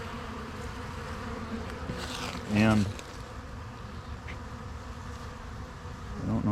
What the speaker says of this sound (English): Wow, look at all the bees.